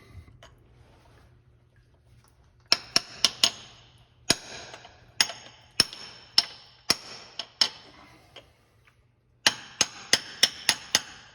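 A socket taps a freeze plug into a swather engine block with sharp metallic strikes. Some blows come in quick bursts and others are spaced apart, with short pauses between the series.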